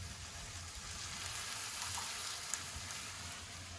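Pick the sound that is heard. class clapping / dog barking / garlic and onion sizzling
garlic and onion sizzling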